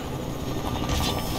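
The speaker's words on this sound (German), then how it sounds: "jetzt stürzt der Helikopter ab" A helicopter going down in Fortnite, heard as a dense, steady mechanical rotor and engine roar that swells slightly toward the end, loud and continuous with no voices.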